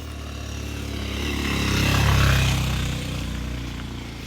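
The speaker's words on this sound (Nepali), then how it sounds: "बाइक फेरि स्पिडमा आयो।" A motorbike speeds past on a jungle road in Nuwakot, its engine drone swelling as it approaches, peaking close by, then fading as it moves away, with no talking.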